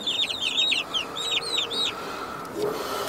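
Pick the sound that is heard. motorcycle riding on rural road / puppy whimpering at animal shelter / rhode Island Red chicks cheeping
rhode Island Red chicks cheeping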